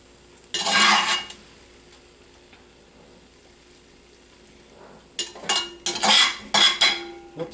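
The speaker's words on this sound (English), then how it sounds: "I'm going to mix this mixture in with the gravy" A utensil scrapes and clinks in a pan on a turned-off burner, stirring a mixture into gravy for smothered pork chops, with one burst early, a quiet gap, then several rapid strokes.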